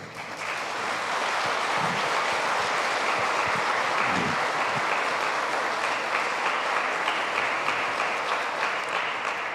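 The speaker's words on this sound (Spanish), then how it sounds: "Y vamos a darles un fuerte aplauso." Warm, steady applause from a congregation inside a church during a Saturday evening Mass after the acceptance of confirmation candidates, filling the room continuously for several seconds with a few low voices underneath.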